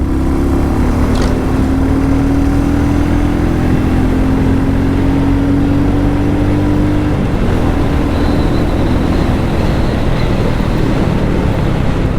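A 2021 Royal Enfield Classic 350 motorcycle runs with a loud, continuous low engine drone, its pitch rising slightly before shifting, heard up close over constant wind and road rush.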